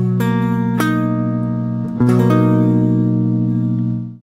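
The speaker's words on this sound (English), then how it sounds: "So the first one is the major 7 chord" A sustained major seventh chord rings out with clean, steady harmonics and a brief re-attack near the middle, then decays and cuts off, alone and close with no talk.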